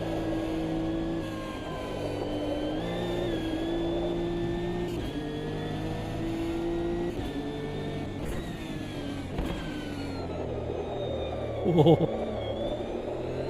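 GT3 race car engine in the Automobilista 2 racing game, a steady mid-pitched drone holding revs with gear-shift steps and a brief louder burst near the end, with one short exclamation from a voice.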